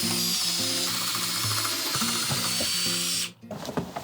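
A power drill bores holes of equal depth into wood for a floating patio sofa build, a loud steady whine with pulsing harmonic pitch changes for about three seconds before cutting off abruptly.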